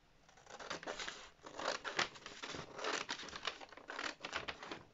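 Scissors cutting paper dress pattern pieces close up, a rapid series of crisp snipping and rustling strokes in uneven bursts, with paper crinkling between cuts.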